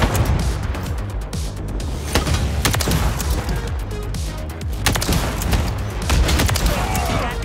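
Call of Duty gunfire from an iron-sight Ballista sniper rifle in a Search and Destroy match, heard as dense, loud shots and booms in a busy, noisy firefight with some voices underneath.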